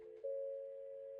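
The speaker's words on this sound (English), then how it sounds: "First one did have secondary dial tone." A steady, unbroken telephone secondary dial tone on a PSTN line hums alone, shifting slightly in pitch near the start and then holding evenly.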